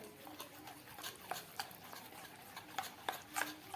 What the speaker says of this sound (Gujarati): મેંદાને આપણે ઘીની સાથે સારી રીતે મિક્સ કરી દીધું છે.